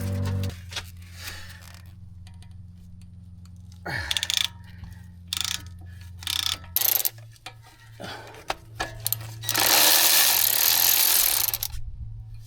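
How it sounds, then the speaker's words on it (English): A ratchet with a 12mm socket removes a bolt during front strut replacement on a 2007–2011 Acura MDX or Honda Pilot, with a low motor hum, scattered clicking ratchet strokes and metallic clanks, then a long loud hiss toward the end. "I'm gonna use 12mm to remove this"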